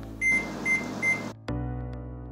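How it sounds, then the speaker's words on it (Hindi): A microwave oven with a bowl of water and baking soda inside gives three short beeps over a low electrical hum, then a click, and a steady running drone follows nearby. "माइक्रोवेव में रख करके इसको हम 5 मिनट माइक्रोवेव मोड पे लगाएंगे।"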